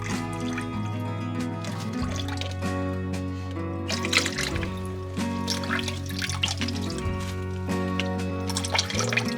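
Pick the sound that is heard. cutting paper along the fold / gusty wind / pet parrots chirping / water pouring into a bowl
water pouring into a bowl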